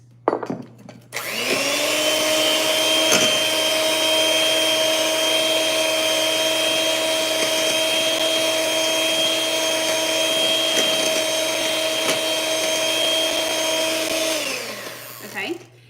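An electric mixer beats a whole egg and egg whites in a bowl, a loud, steady, close motor whine that holds for about fourteen seconds before winding down, with no talking.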